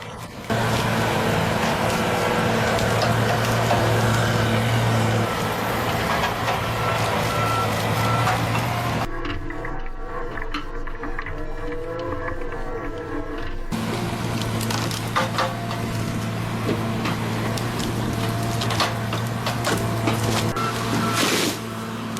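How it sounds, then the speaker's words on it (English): Tigercat 2000 forestry machine working pine: steady heavy diesel drone with intermittent cracking and woody thuds as logs are clamped, cut and stacked, loud and continuous, with a brief muffled section midway. "the Tigercat 2000 already has the pine clamped, cut, and stacked"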